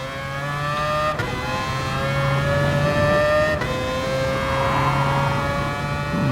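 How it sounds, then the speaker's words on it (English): A Mazda RX Vision racing car in GT Sport holds a loud, high rotary-engine wail that climbs steadily, with sharp breaks at each gear shift, close and steady throughout with no talking. "Revving out to about 90 million RPM."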